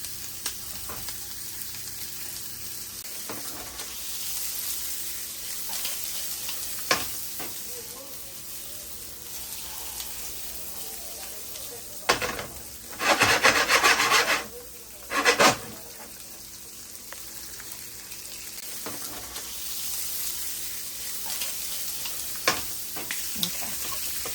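Big shrimp frying in a pan, a steady close sizzle with scattered clicks and taps, broken by a few loud harsh bursts of scraping or hissing midway, sustained and moderately quiet with no talking.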